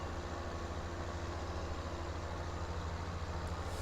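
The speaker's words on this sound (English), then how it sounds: "this tractor only does 24 mile an hour" A tractor engine in a farming video game, a slow machine topping out around 24 mph, drones steadily and close with a low, even rumble that never changes for the whole stretch, with no voices over it.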